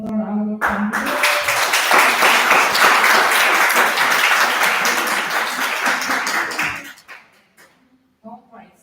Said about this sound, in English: Let's just clap to both our candidates.